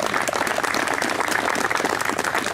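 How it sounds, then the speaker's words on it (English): Audience applause at an art barn groundbreaking ceremony on Spring Island, a dense, steady wash of clapping that holds at an even level from start to finish, with no voices rising above it. "So I'd like to give them all a big round of applause too."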